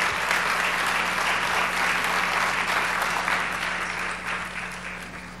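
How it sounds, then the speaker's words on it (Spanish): A church audience gives a singer a warm welcome with sustained applause: dense, even clapping from a crowd that stays loud before gradually tapering off, with no voices. "Le recibimos con un caluroso aplauso"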